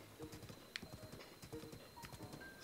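Horse hooves clip-clop in a steady rhythm in the video game Zelda: Breath of the Wild, quiet and repeated, with a few brief game chimes on top.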